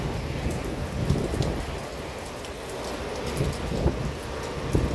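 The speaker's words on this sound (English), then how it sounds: "it's just a windy, cold night in the rain" Steady, dense rainfall pours down at night during a severe thunderstorm in Stockbridge, Henry County, Georgia, with low rumbles of thunder rolling underneath, continuous and fairly loud, no voices.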